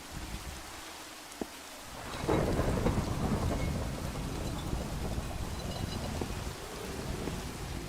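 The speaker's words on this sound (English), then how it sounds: "This storm is kinda wild." Steady rain falling in a Minecraft thunderstorm, with a sharp crack early on and thunder rolling in after a couple of seconds, swelling into a dense, continuous downpour.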